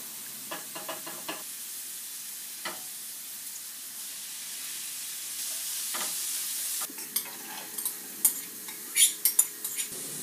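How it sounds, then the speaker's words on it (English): Meat and vegetables cooking in a metal pan and a ceramic pan for an Italian dish, a faint sizzle underneath with scattered knocks and scraping stirs of a utensil against the pans, busier clinks toward the end. "On our metal pan, we're gonna cook the meat And on our ceramic pan we're gonna cook the vegetables."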